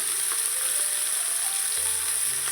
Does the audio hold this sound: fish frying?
yes